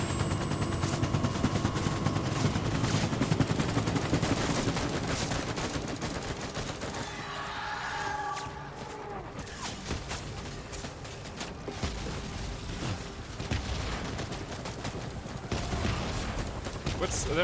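Gunfire in the video game Death Stranding, dense bursts of shots and crackling weapon fire over a loud, continuous roar of game noise, with occasional mechanical clatter.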